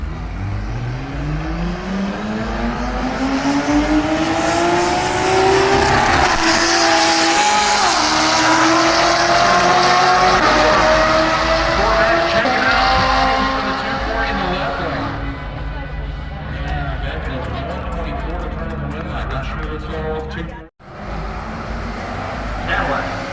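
Drag race cars run at a Street Car Takeover event in Indy, with loud engines revving and accelerating as rising whines climb in pitch, then fade. A nearby voice talks over the roar, and a sharp cut comes near the end.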